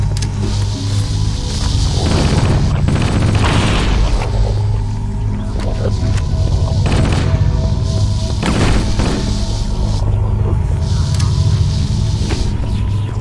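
Explosions rumble and thud against a reactor in the Halo: Combat Evolved level The Maw, over a continuous loud, dense mix of game audio with repeated booms and impacts throughout.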